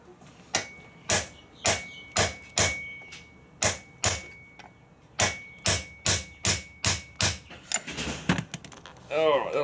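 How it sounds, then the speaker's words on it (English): A hammer strikes a metal part again and again while a Suzuki DR650 rear suspension is being removed in a workshop. The blows are loud, close and steady, roughly one or two each second, and a brief scraping clatter follows near the end. "takes some whacking. I might use the hammer"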